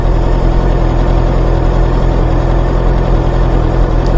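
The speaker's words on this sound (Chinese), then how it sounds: "听一下怠速的这个声音啊" A VOGE RR660 motorcycle engine idles steadily close to the microphone, a loud, even low-pitched hum with fine rhythmic pulsing and no talk over it.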